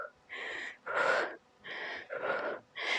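Forceful exhaled breaths during a full-body HIIT home workout, five strong puffs in a steady rhythm about every half second, close and loud with no talking.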